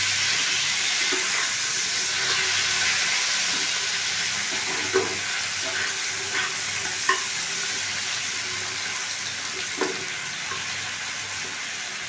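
Onion sizzles steadily in a hot pan for Bengali aloo dum, a constant bright frying hiss with a few soft clicks of stirring, no voices.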